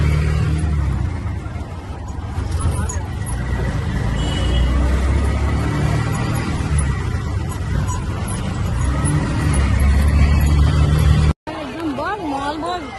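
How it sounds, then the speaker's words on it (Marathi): Ride in an auto rickshaw on the way to a haldi ceremony: steady close engine rumble and road noise with passing traffic, voices chattering over it, then a brief cut to quieter sound at the end. "तो गाईज रिक्षात बसलोय,"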